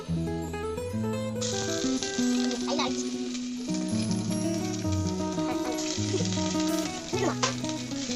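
Ginger garlic paste sizzles in ghee in a pan that already holds cinnamon. A steady frying hiss runs under prominent background music throughout.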